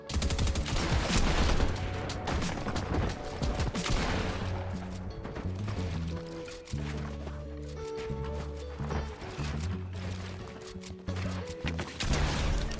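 Fortnite gunfire crackles in rapid bursts and single shots within game sound, under a busy layer of in-game effects and music tones, moderately loud and uneven, with quieter gaps between volleys.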